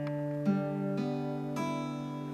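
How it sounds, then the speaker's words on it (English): Four tuned strings plucked one after another on a string instrument, each note ringing out clearly and sustaining while the next joins, quiet and close with no talking. "your 4 strings should sound like this"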